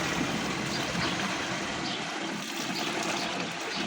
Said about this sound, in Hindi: एक बाल्टी पानी की मैंने डाल दी इसमें कूलर में, लेकिन पानी थोड़ा कम है, तो फिर मैं एक और भी डाल देती हूँ।